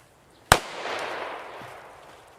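A retro JC04 or Pirat firecracker goes off outdoors: one sharp, loud bang followed by a long, fading rumble and echo, with no talking.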